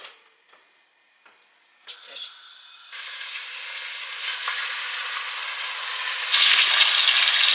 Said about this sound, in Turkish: Önce kızartma işlemini yapalım. Ben zeytinyağı kullanıyorum.